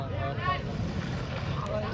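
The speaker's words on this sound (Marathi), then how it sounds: "कशी बोट चालली" A boat moves across the water near Vasai with a steady rumble of its engine and wash, heard under wind noise as people talk nearby.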